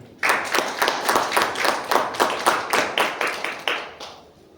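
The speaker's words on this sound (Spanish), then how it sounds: "Recibimos por favor con un fuerte aplauso a Gabriel Ibarra." Audience at a mining convention claps in a steady burst of applause, a dozen or so sharp, evenly spaced claps ringing out clearly before fading at the end.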